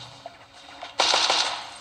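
Rapid automatic gunfire from a mobile video game gun, a quiet opening followed by a loud burst of repeated shots that keeps going to the end.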